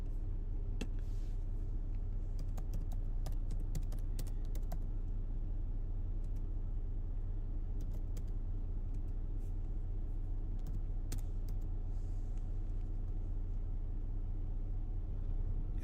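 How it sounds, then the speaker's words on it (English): Scattered clicks of typing on a computer keyboard sound in short bursts over a steady low rumble, faint and without talk. "Y'all can tell when I start typing in stuff"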